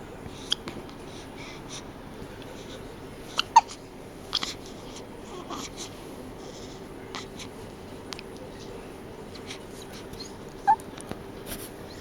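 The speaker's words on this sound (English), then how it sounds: "has the hiccups" A four-day-old newborn boy hiccups in a quiet room, with several small, sharp, isolated catches spaced irregularly across the stretch over faint background hiss, and no talking.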